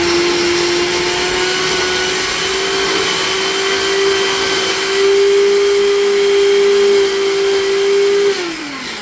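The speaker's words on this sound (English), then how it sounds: "Get a food processor, guys." A food processor chops one large cucumber into pulp with a loud, steady motor whine and a dense whirring roar. It holds nearly nine seconds, then drops in pitch as it winds down at the end.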